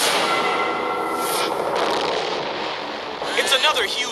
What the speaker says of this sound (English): It's another huge explosion in the skies over the Cape as an Atlas Agena rocket disintegrates in midair.